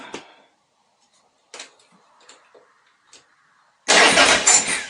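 A Harley-Davidson Sportster motorcycle engine, just after its idle was adjusted, bursts loudly into a rough, steady run near the end, following several faint clicks and knocks.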